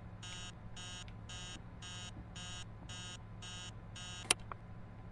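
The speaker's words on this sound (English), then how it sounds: "That's the devil's alarm right there." A creepy alarm sounds in the horror video game Emily Wants To Play Too, eight evenly spaced electronic buzzing beeps repeating in a steady rhythm over a low hum, with one sharp click near the end.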